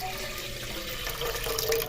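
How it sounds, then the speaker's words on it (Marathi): Water poured from a small pot into a cooking vessel, a short, steady splashing gush heard close and alone. "आता एक पातेलं घेतलंय आणि त्याच्यामध्ये एक तांब्याभर पाणी टाकून घ्यायचे"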